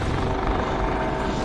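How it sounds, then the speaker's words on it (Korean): A helicopter heard at sea during a maritime infiltration sniping exercise, its rotor thrum loud, steady and continuous throughout the short stretch. "헬기온다"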